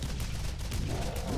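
Gunfire striking the player in the Borderlands video game, a dense, continuous rattle of shots under game noise with a voice talking over it.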